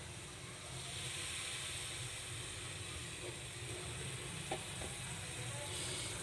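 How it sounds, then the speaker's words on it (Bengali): Hot oil sizzles steadily in a heated kadai (wok), a broad hissing wash that holds constant throughout with a faint click or two, no talking over it. "এবারে আমি তেল ঢেলে দেব।"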